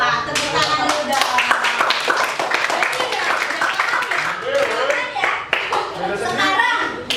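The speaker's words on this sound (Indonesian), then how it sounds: "Tepuk tangan dulu dong" Children clap their hands together in a classroom, a dense, lively patter of many small hands that carries on steadily for several seconds, with kids' voices chattering underneath.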